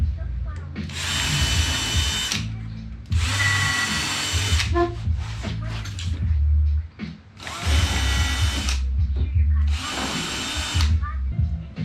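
Power drill driving screws into a camper van bed frame: four distinct whirring bursts of about two seconds each, close and loud, separated by pauses with handling clatter and brief talk.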